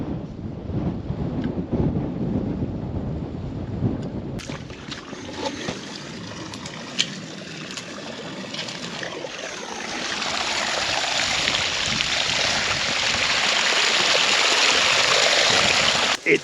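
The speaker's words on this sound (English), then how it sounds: "we're gonna kick the pump on" A farm water pump starts up and runs, its steady broadband rush of flowing water swelling louder in the second half, with outdoor wind noise throughout.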